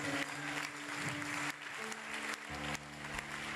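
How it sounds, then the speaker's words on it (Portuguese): Congregation clapping during a church sermon, sustained applause from many hands filling the room, with a low organ or keyboard hum beneath and no one speaking. "aqueles que amam aplaudam a Ele"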